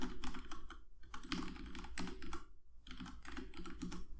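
Rapid clattering keystrokes on a computer keyboard while writing Unity code, continuous close typing with one brief pause partway through, fairly quiet.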